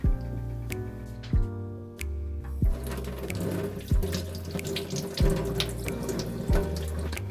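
Lemons being rinsed under a running kitchen tap, a steady close stream of water splashing into a sink, with a few sharper clinks and knocks from handling as the fruit is washed while making lemon ginger syrup.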